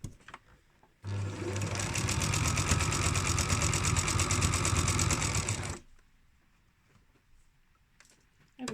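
A sewing machine stitching down a pyjama waistband runs in one steady, close, whirring burst of about five seconds, with quiet handling sounds before and after.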